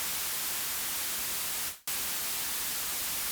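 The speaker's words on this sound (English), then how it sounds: "A perfect example of atonal noise is, for example, white noise." Steady broadband white noise, an atonal hiss with no pitch, fills the frame at even loudness, cut by one brief dropout near the middle before resuming unchanged.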